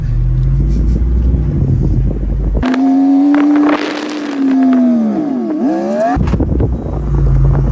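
A hard-top off-road vehicle on the move, with a loud engine drone rising and falling in pitch as it accelerates and shifts, wrapped in buffeting wind and road noise.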